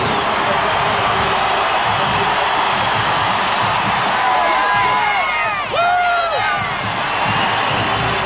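A capacity crowd of 52,000 at the 1993 Sun Bowl in El Paso cheers loudly as the Texas Tech Red Raiders run onto the field, with whoops and shrill yells cutting through a constant roar.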